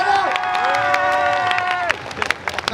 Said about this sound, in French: On applaudit Sifano.